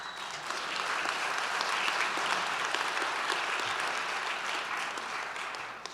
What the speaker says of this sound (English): I'm glad you guys are clapping